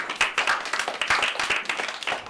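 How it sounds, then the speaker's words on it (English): A class of Year 3 children claps together in a quick, uneven rhythm of sharp, close hand claps, with no talking over them. "you can give yourselves a clap for getting a marble"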